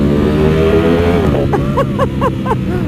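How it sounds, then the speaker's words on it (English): A Ducati V4 SP motorcycle with a Termignoni titanium exhaust revs loudly and close, a deep throaty roar with rising and falling engine pitch and a few sharp bursts near the end. "I can hear the sound of the exhaust through your microphone"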